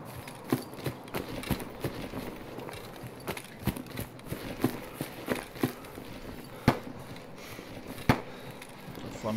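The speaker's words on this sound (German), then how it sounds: "Da vorne haben wir die ersten Schüsse." Distant AK gunfire in the game Escape From Tarkov sounds as scattered sharp cracks at irregular intervals, some louder single shots over a background rumble.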